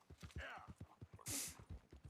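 Horse hooves clip-clop in a steady, even rhythm while riding in the video game Red Dead Redemption 2. A voice is heard briefly over the hoofbeats.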